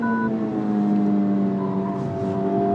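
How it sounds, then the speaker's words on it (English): A 2023 Honda Civic Type R (FL5) on a race track, its engine droning steadily and close, then a gear shift shifts the pitch near the end, loud and continuous with no talk. "That shift sound is pretty hilarious."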